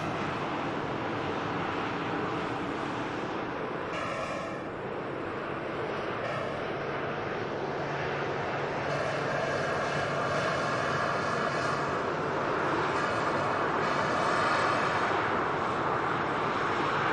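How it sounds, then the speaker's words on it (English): A Ryanair Boeing 737 MAX at Manchester Airport sends a continuous, moderately distant engine roar with a faint whine, steady throughout and free of talk. "Another Ryanair Max"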